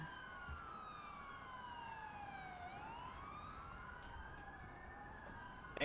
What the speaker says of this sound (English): I'm hearing sirens like crazy